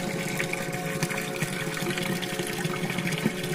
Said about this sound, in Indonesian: bunyi air seperti air mancur nih, pancuran